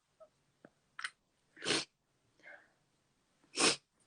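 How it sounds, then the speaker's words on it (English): Short sniffs and snorts through the nose, a few quiet and two louder bursts, spaced irregularly between pauses in an otherwise quiet room. "I think there is some sniffles coming in"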